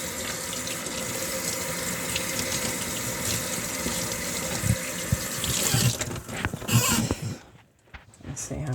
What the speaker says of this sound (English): So I don't mind washing this now with hot water because I could easily take out all that dirt.